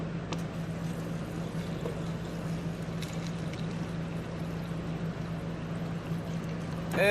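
Water streams steadily from the door dispenser of a Kenmore Elite 23.5 cu. ft. counter-depth bottom-freezer refrigerator, a soft, continuous pour that runs unbroken for several seconds at low volume.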